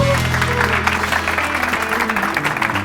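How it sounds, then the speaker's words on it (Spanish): Audience applause at a school show, a dense continuous patter of clapping from a crowd, with a faint voice and some low tones underneath. "Un fuerte aplauso"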